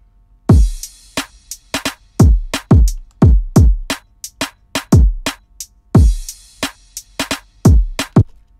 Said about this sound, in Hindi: ड्रम्स को फिर पूरा सुनेंगे एक बार।